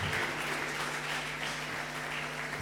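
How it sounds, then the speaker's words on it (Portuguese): A church congregation applauds during a worship celebration service, a steady, dense wash of clapping from many hands filling the room, with no voices over it. "Aplaudo o Senhor Jesus."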